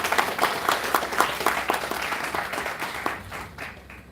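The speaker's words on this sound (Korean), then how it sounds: "큰 박수 부탁드립니다." Applause from the audience at a high school founding anniversary ceremony as a teacher receives a plaque, a dense steady patter of many hands that holds for several seconds and tapers slightly toward the end.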